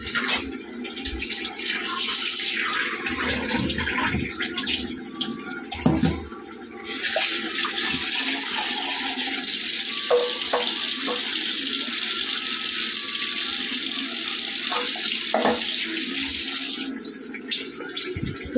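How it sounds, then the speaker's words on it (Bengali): Taro pieces are rinsed by hand under a running kitchen tap, a steady, close stream of water with brief dips and splashes as the pieces are moved about. "বন্ধুরা কচুগুলো একটুখানি ধুয়ে নেবো ভালো করে"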